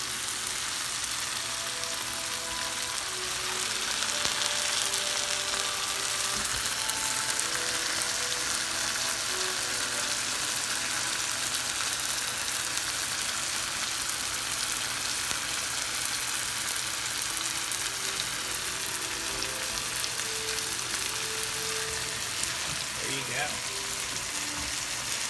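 Serrano ham wrapped around pineapple frying in a pan, a steady close sizzle and crackle that runs continuously, with faint tonal background sounds underneath.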